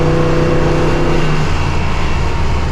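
A 1963 Chevrolet Impala SS 409 V8 revs hard as its transmission kicks down, a loud, close, steady engine roar that stays strong throughout with no talk.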